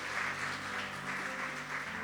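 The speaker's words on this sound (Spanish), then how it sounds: "Denle un fuerte aplauso al Señor por eso." Church congregation applauding during a Spanish-language service, steady dense clapping that fills the clip at moderate, even loudness with no talk over it.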